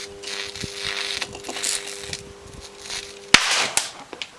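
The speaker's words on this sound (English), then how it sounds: "let's continue blowing up some more caps" A capacitor blows up, a sharp, loud bang bursting out of steady background noise, followed moments later by a second, smaller pop.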